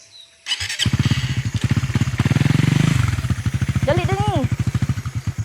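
A motorcycle engine starts up and idles with a loud, pulsing putter close by; a person speaks briefly over it.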